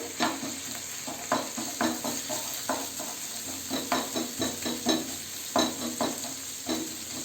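Egg pieces stir-fried with vegetables for restaurant-style non-veg Hakka noodles: a steady loud sizzle in the pan with rhythmic scraping strokes of the spatula about twice a second, close up and without talk.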